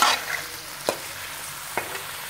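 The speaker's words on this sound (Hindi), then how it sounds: "प्याज को अब हम थोड़ा सा नरम करेंगे ताकि ये हल्का लाइट ब्राउन हो जाए।" Onions sizzle steadily in a pan for a mutton curry, a constant frying hiss with a couple of brief scraping stirs from a spoon, close and without talk.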